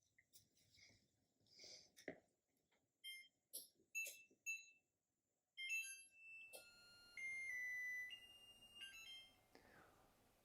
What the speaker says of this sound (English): As you can hear, the timer went off.